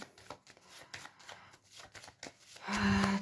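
Tarot cards shuffled close up, a quick riffle of soft flicks and taps, ending in a louder burst of rustling.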